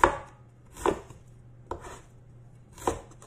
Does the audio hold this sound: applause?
no